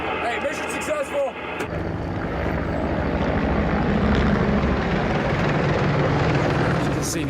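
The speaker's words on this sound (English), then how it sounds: "You can see the attack helicopters turned up." Attack helicopter passing overhead in a combat zone: a loud, continuous rotor-and-engine roar that swells in and holds steady, with voices heard over the start.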